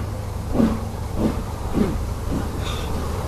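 Steam locomotive 92203 Black Prince departs Weybourne, giving a steady hiss with rhythmic chuffs repeating roughly every half second over continuous rail rumble, heard at moderate distance with a brief high whistle-like tone near the end.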